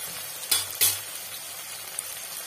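Onions and ground spices sizzle in hot oil in a pan for a silver fish curry with taro stems. There is constant frying hiss with two sharp bursts and clinks near the start as spices hit the pan or are stirred.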